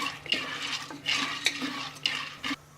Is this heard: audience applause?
no